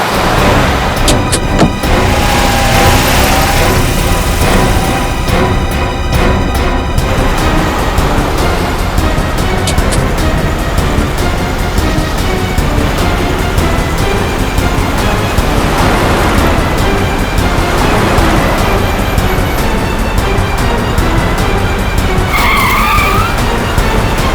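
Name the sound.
car driven recklessly, tires skidding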